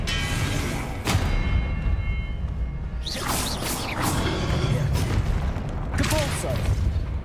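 The Expelliarmus spell fires in the Hogwarts Legacy video game, a sharp booming burst followed by crackling magical impacts and whooshes amid combat, with a player's voice calling out spell names.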